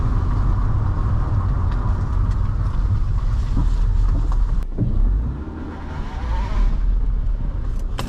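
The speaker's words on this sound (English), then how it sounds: "I think that's just the sound of reverse." Car being driven in reverse gear, a steady interior engine and transmission drone with gear whine, dipping briefly midway before resuming at similar loudness.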